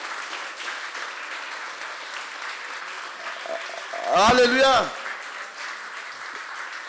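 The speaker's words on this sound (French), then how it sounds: "Oui, applaudissons pour Jésus." Congregation at a church youth camp applauds for Jesus, steady moderate clapping throughout, broken midway by a loud, drawn-out shouted exclamation from a voice before the clapping carries on.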